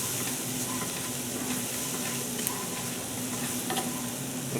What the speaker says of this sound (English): And we'll stir this around, let this go for about